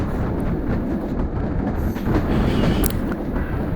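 A train pulls into Pakshi railway station, a loud, close, continuous rumble of wheels and carriages with rhythmic clatter and occasional squeaks, no voices.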